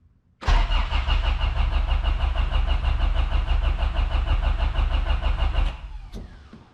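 A car engine just converted to a Haltech management system cranks steadily for about five seconds with a rhythmic, loud starter churn, then stops without catching.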